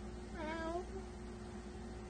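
A single drawn-out meow, most likely a human voice imitating a cat, rising and falling once over a steady low background hum.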